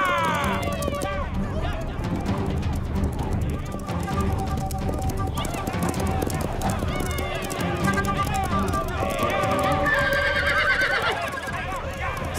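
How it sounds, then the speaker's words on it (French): Cartoon horses being driven toward a cliff whinny repeatedly over galloping hoofbeats and a lively music score, loud and continuous, with some voices mixed in. "Ils vont rabattre les chevaux et les coincer contre la falaise."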